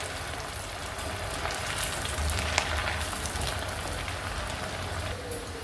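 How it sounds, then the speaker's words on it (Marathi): Sabudana and vari medu vadas deep-frying in hot oil, a steady dense sizzle and bubbling crackle that holds evenly throughout at moderate loudness. "वडे सोडते आणि हे पण आपल्याला खरपूस रंगावर चांगले तळून घ्यायचे"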